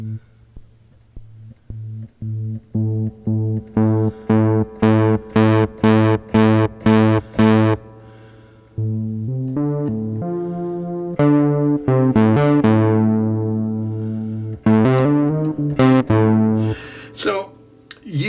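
A Moog Grandmother synthesizer repeats one low note in a quick series of pulses, its tone brightening in sudden steps as key velocity increases, followed by a run of sustained synth notes, heard alone and close.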